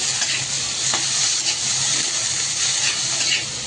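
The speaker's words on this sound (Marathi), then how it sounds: "आता गवारीला चांगलं परतून घ्यायचं." Cluster beans (guar) being stir-fried in a pan with chili masala give a steady, close sizzle. Light scraping stirs run through it, with no one talking.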